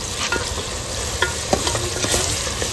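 A masala of turmeric, garam masala and coriander powder fries in a curry pot, giving a steady close sizzle with intermittent stirring scrapes. No voices are heard.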